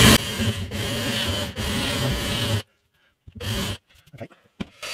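A bit grinds into wood to countersink a screw hole for a guitar neck joint, giving a steady rasping whir that stops twice briefly, then cuts out, followed by a short burst and faint scraping.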